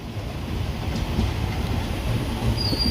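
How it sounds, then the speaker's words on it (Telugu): A small train rolls past on a branch line with a low rumble of wheels on rails and a brief high wheel squeal near the end, heard from a distance. "చిన్న ట్రైన్ చూడండి అసలు"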